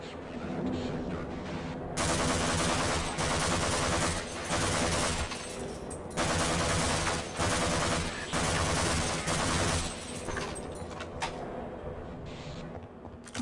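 Gunfire in the Half-Life: Insecure mod, with loud rapid automatic bursts that come in long sustained volleys separated by brief pauses, followed by quieter scattered shots.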